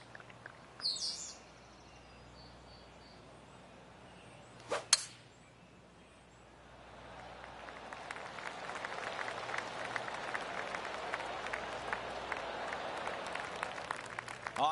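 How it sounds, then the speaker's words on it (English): Scattered golf-clap applause from a gallery spread around the course in the PGA 2K golf video game, following a birdie. It swells in midway and continues as a steady, moderate patter to the end, with no talk. "I can hear the golf claps around the course"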